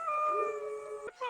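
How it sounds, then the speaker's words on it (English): Dogs howl in the 1986 film Stand By Me, a steady, wavering, tonal howl held for about a second before breaking off abruptly, with another call starting right at the end. "Like this, all these dogs started howling, like loads of them, like in unison."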